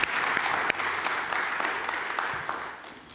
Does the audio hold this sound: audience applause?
yes